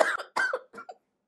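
A person coughs four times in quick succession, the bursts close and fairly loud, growing shorter and weaker before silence.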